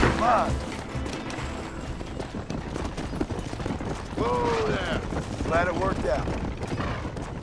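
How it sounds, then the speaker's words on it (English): Rapid bursts of gunfire in Red Dead Redemption crackle repeatedly through the scene, steady and fairly loud, with voices talking over them. "hear gunshots"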